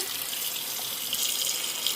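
Tap water runs steadily into a bowl to cover and soak lentils, a continuous close rushing stream with no voices.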